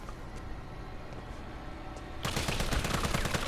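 Burst of rapid gunfire from the Resident Evil 3 video game, shots aimed at a zombie, erupting loud and dense after a couple of seconds of quiet ambient game background.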